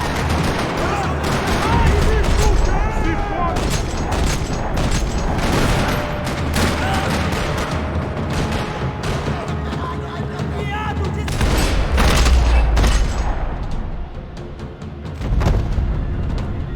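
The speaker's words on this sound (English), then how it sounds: "Another parking lot rattling with gunfire." Gunfire in the Max Payne 3 video game during a shootout in a parking lot, dense loud bursts of rapid shots and booms that rattle on continuously, with voices talking amid the fire.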